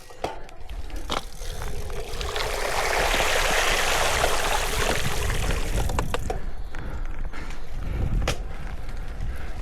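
A motorbike splashing through a water stream, a rushing hiss of churned water swelling and then fading over several seconds, with mechanical clicks and knocks around it.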